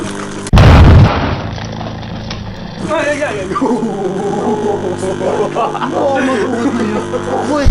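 A radio's dynamic speaker bursts inside a running microwave oven near the magnetron, a loud sudden boom followed by crackling and a steady oven hum, with a person talking over it.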